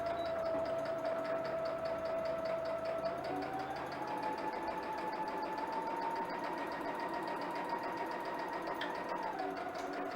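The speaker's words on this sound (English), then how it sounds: "We're going to back tack at the beginning of this." A sewing machine stitches fabric at a steady whirring hum and reverses for a back tack at the start of a seam, running continuously and close with no talking.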